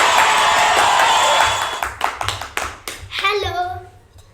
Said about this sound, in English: Let's give a huge round of applause for Sweet Sanskar.